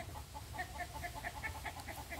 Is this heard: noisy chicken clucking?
yes